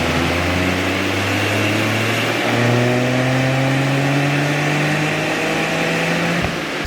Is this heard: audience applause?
no